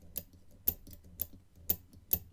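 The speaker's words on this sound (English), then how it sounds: "that's the sound of a springy wafer" Springy wafers clicking inside a Sparrows Gridlock lock as it is picked: five light, evenly spaced ticks, close and quiet, with faint rattling between them and no voices.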